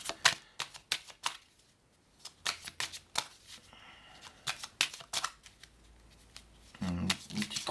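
Tarot cards being shuffled at close range, a run of crisp riffling bursts and flicks in quick uneven rhythm with brief pauses, ending in a heavier flurry of cards spilling.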